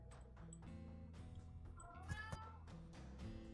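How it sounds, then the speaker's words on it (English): A pet cat meows repeatedly indoors, with several drawn-out, wavering cries at moderate volume and some low background noise behind them. "Sorry about my cat."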